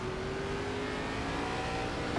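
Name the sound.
Gen4 Cup race cars accelerating at green flag, from a video game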